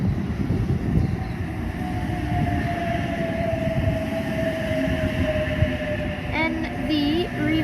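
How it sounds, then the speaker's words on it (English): An eight-car Oscar passenger train, with H45 cars in front and H10 at the rear, rolls into a station platform with a steady, loud rumble of wheels and carriages and a faint rising whine near the end. "And there's an Oscar train approaching platform number 2."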